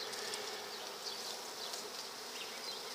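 A dense, steady drone of honeybees fills an open hive during an inspection, a close, continuous buzz with occasional individual bees sweeping louder past, and no talking.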